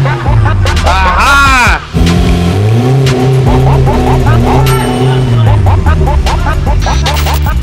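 Car engine revving hard in repeated bursts as the driver tries to spin bicycle wheels fitted to the car, loud and close with wheel squeal, under continuous talk.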